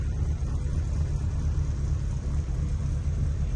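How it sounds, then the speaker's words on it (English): A 1989 Austin Mini Sky Rose engine runs at idle right after starting, a steady low rumbling drone heard up close and alone, without speech. "As soon as you look at the key, it fires up."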